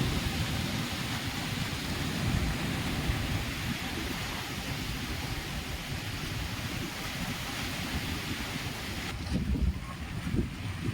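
Strong wind buffets the microphone on a farm, a steady loud roar with rumbling gusts throughout.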